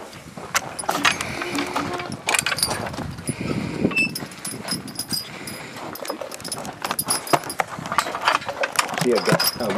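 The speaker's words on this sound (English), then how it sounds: "Then I'll just hook the chains up now, the trace chains." Metal trace chains are hooked up on a Percheron horse harness outdoors, with clinking links and ratcheting, rattling metal close by across the whole stretch, mixed with shuffling and movement noise.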